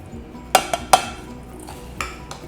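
Metal utensils clink against a cooking pot as haldi, red chili powder, salt and dhana jeera powder go in with softened onions, a few sharp scattered taps and scrapes over a quiet background.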